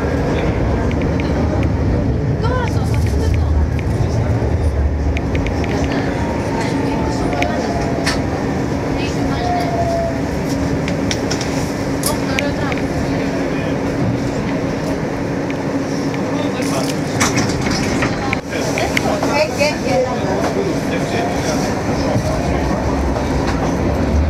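Athens tram riding on rails, a steady loud rumble and rattle of wheels with faint squeals, continuous throughout the ride, with a recorded announcement and passengers' voices over it.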